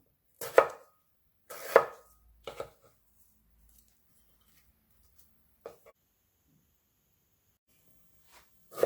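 Knife cutting through an unpeeled pear into thick slices, three firm crunching chops close by at the start followed by a few fainter cuts and quiet pauses.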